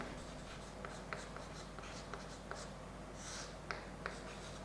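Chalk or marker writing on a board during a physics lesson, with faint scratchy strokes and short taps at an irregular, unhurried pace over steady background hiss; no one speaks.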